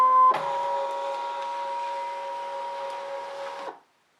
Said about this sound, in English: Scan and Cut will scan in my fabric and allow me to see it on the screen